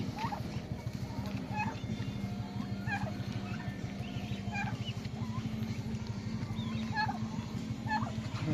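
Several turkeys gobble and cluck in short bursts at a moderate distance over a steady background rumble.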